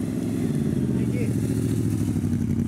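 A motorcycle engine runs steadily at a gymkhana event, heard from a distance with a continuous mid-pitched drone, and people talk over it throughout.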